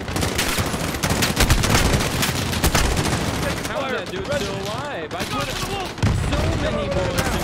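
Dense gunfire from Call of Duty: Modern Warfare during an embassy assault, rapid bursts and fusillades loud and close throughout, with a voice speaking over the later part.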